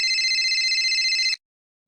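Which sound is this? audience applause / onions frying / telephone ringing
telephone ringing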